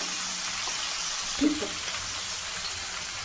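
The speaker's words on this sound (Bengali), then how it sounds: "এই যে রসুন বাটাটাও দিয়ে দিলাম একটু বেশি করে ভেজে নেব" Garlic paste frying in oil for a potato curry gives a steady close sizzle, with a brief stirring clatter near the middle.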